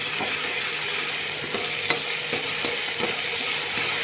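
Green chili, ginger and garlic paste sizzles steadily in a pan of gravy for an eggplant and potato curry while a spoon stirs with occasional soft knocks against the metal.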